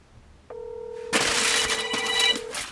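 Phone ringing over speakerphone after a number is dialed, a steady electronic tone that gives way to a loud, bright ringtone.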